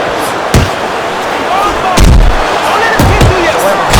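Punches landing in a boxing bout in the Fight Night Champion video game on Xbox One, several sharp thuds at irregular intervals over a steady crowd-like bed, with faint commentary-style talk underneath.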